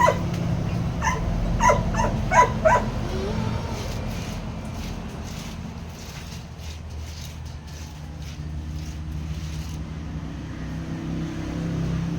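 A dog barks and yips a few times early on, near and fairly loud, then only a low background hum with occasional faint noises remains.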